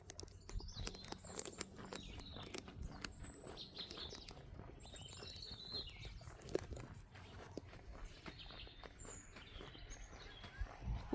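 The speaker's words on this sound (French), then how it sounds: "Entendez-vous ces chants d'oiseaux?" Birds chirp and sing intermittently in the distance over footsteps crunching along a countryside path outdoors.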